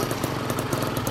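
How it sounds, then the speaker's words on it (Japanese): A 1980s Honda NS-1 AC12 two-stroke motorcycle fitted with an NR Magic chamber exhaust idles steadily and close by just after a push start, a continuous buzzing, rattly engine note with no talking. "あのエンジンかけようか。"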